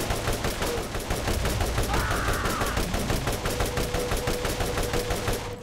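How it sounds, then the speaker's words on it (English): Rapid, sustained enemy gunfire in the Borderlands shooter game, a dense stream of shots rattling on without a break for several seconds, loud and close, with a faint tonal hum running underneath. "He just waited for me to get close to him, then started shooting."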